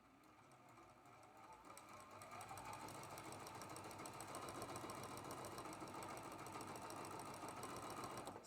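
A sewing machine pieces traditional quilt blocks, starting up and settling into a fast, steady mechanical chatter that runs continuously and faintly, with no voices.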